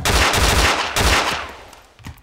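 Heavy bursts of automatic gunfire in the ARMA 2 DayZ mod (Breaking Point), several loud rapid volleys in the first second or so, then a fading tail with a couple of quieter distant shots.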